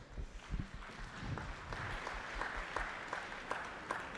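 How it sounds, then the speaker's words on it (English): Audience applause ringing out at a youth beef cattle show, steady clapping from a crowd that holds across the whole stretch with a few sharper individual claps poking through, moderately distant in a large show space. "Give him a round of applause."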